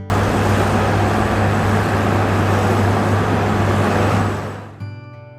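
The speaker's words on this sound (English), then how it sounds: "crane truck" A crane truck's engine gives a loud, steady roar with a deep droning hum, close and continuous, then tapers off near the end.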